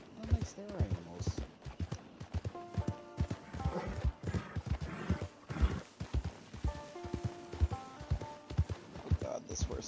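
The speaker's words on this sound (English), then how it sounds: "Let's go, horse." A horse in the video game Red Dead Redemption 2 clip-clops along in a steady rhythm of close hoofbeats, with a whinny partway through, while a player talks over the gameplay.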